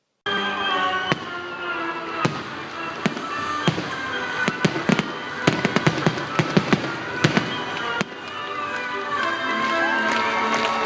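An early Third of July fireworks show: a constant rumble of distant explosions broken by a scattered run of sharp cracks and bangs, with a crowd murmuring faintly beneath.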